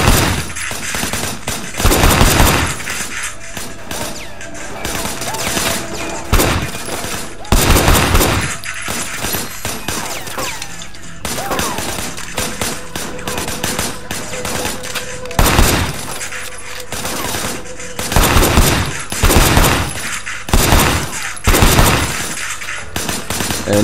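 Video game gunfire with bursts of automatic fire and single shots, loud and close, coming in repeated volleys separated by short pauses, with some breaking, shattering sounds mixed in.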